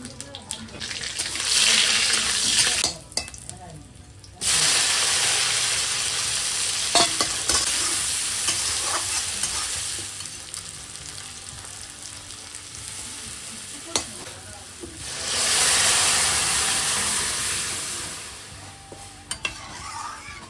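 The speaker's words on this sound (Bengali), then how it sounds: "কড়াইটা পরিষ্কার করে এবারে ডালটা ফোড়ন দেবো।" Spices sizzling loudly as dal is tempered in a wok with chopped ginger and cumin, the hot crackle stirred and scraped continuously with brief breaks and shifts in intensity.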